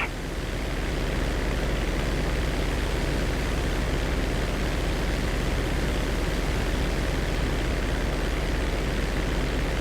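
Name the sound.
cargo plane engines, from the video game Grand Theft Auto V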